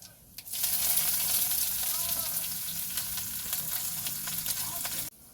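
Panch phoron and chopped onion hit hot oil and burst into a loud, close, crackling sizzle that holds steady for several seconds, then cuts off abruptly, with no talking.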